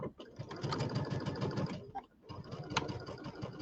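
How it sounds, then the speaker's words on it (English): A sewing machine stitches a quarter-inch quilting seam with its piecing stitch in a rapid, even mechanical whir, close and steady, stopping briefly in the middle before running again. "I really like the piecing stitch on the machine."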